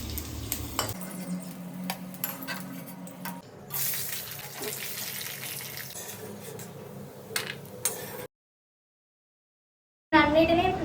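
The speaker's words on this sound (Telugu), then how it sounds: "ఆయిల్లో పచ్చిమిర్చిని డీప్ ఫ్రై చేసుకోవాలి" Green chillies deep-fry in hot oil in a home kitchen, a steady close sizzle and crackle with stirring clatter, broken by a brief silence and a sharp burst at the end.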